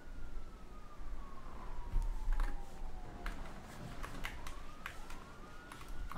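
A police car siren wails faintly in the distance, a slow sweeping tone rising and falling, with scattered sharp clicks and taps nearby.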